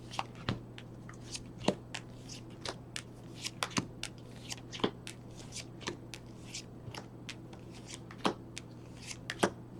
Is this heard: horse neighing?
no